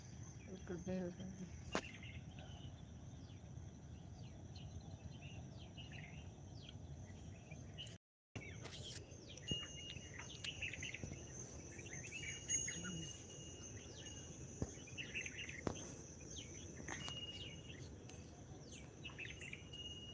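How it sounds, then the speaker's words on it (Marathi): Farm field ambience at night, with crickets chirring steadily in the background and scattered faint bird chirps. Everything stays quiet and distant, with one brief dropout partway through. "हे आहे शेतामधलं वातावरण"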